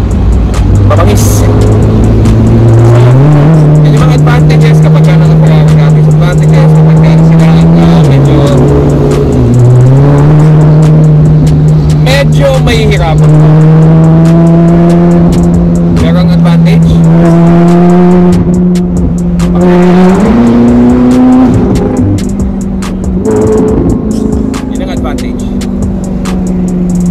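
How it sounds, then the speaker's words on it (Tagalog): A Ferrari sports car engine with its roof removed revs and drives close by, a loud sustained exhaust tone climbing and dropping through several gear changes across the whole stretch, with someone talking over it. "Pag ni-start mo yung kotse mo, magigising lahat ng mga kapitbahay mo."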